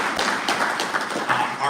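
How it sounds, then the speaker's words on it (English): An audience claps for an honoree at a sports hall of fame induction, a dense patter of hands filling the room at a moderate level. "So round of applause to Chuck"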